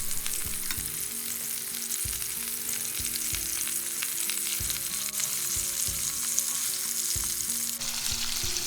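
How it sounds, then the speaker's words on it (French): Stuffed bitter melon grilling in a pan, a continuous close sizzle with regular low knocks and clatters from the pan recurring every second or so. "Et on laisse griller pendant une minute."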